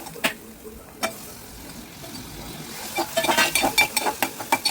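Tomatoes going into a pan of browned onions for a Kokani-style dried fish vegetable curry: a soft sizzle under a few sharp clacks of a spoon against the pan, growing busier with quick scraping stirs toward the end.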